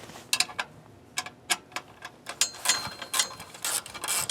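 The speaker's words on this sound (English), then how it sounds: "first I'm going to take this top cover off for the air box" Bolts are loosened and removed from the top cover of the air box on a Coleman generator with a Briggs motor, giving a run of short ratcheting clicks and metallic ticks in irregular bursts, close and fairly quiet, with no talk.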